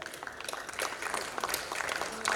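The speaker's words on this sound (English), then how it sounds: "Let us give them a big round of applause for presenting their papers and authoring them" Audience applause at an international engineering seminar in Guwahati, a steady wash of many hands clapping in a hall, moderately loud and continuous, with faint voices underneath.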